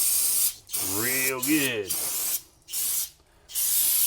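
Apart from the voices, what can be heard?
spraying brake cleaner from a can on brake parts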